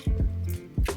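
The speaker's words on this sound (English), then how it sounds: "I'm going to get about 6 eggs and just pour them directly into these cupcake molds" Raw eggs pour and plop into cupcake molds, with two soft wet squishy drops close by, each followed by a short low gloop.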